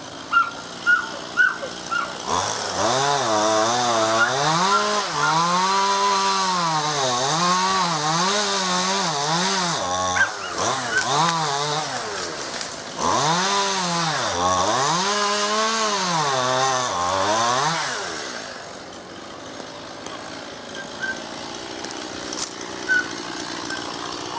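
A chainsaw cuts into a Leylandii tree, its engine loud and close, revving up and down in repeated swells as the blade bites, then dropping back to a lower idle near the end.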